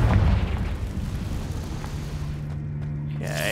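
A Confringo fire spell explodes in the video game Hogwarts Legacy, a loud booming burst at the start that rumbles and fades over a few seconds.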